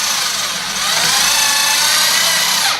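A power drill drives self-tapping screws into a Billboarder banner framing system. A loud, continuous high whine runs for nearly three seconds, rising slightly in the middle before cutting off abruptly.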